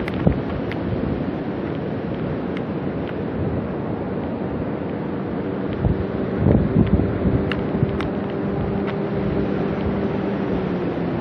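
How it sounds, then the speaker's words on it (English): Steady wind rumbles and buffets against the microphone throughout, with a low droning tone drifting through the middle. "It is a bit windy here"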